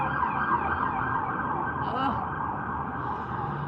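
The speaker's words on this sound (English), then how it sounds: "there's so many sirens" Wailing sirens rise and fall continuously through dense background noise, with a faint voice underneath.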